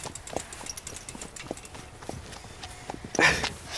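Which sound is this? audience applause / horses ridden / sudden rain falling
horses ridden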